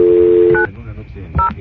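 Telephone keypad dialing tones: one long steady tone, then two short tone bursts separated by a stretch of quiet line noise, loud and close.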